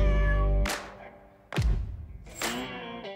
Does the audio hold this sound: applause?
no